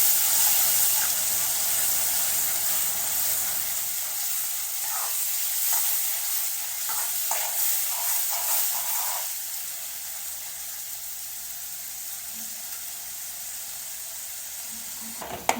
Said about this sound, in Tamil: கருவேப்பிலை, ஊற வச்ச பூண்டு எல்லாத்தையும் சேர்த்து வதக்கி விடுங்க.